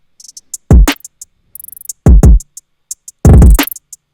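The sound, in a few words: R&B drum beat with kick, snare and hi-hat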